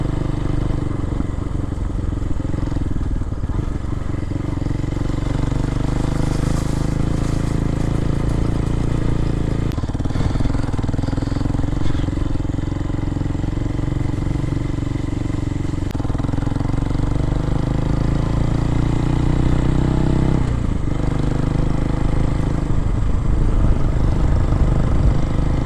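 A 2023 PT5 Hawk-X 250 motorcycle engine drones steadily and loudly while riding past buildings, with low rumble, small shifts in pitch, and wind noise throughout and no voices.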